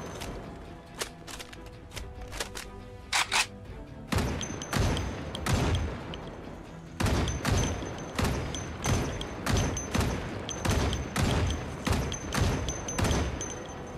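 Repeated gunfire in Project Zomboid, a rapid fusillade of loud close shots coming in bursts, with a few quieter thumps before the heavy firing starts.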